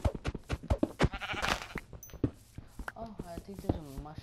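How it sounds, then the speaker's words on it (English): Sheep bleating in the video game Minecraft, a few short wavering bleats mixed with quick tapping clicks, under and between people talking. "there's a sheep right there"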